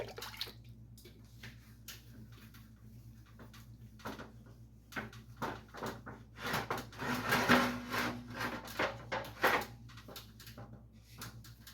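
A 1951 Chevy truck front bumper is sanded to remove scratches, giving rhythmic rubbing strokes that start soft, swell louder near the middle, then fade as the surface smooths out, heard close with no talk.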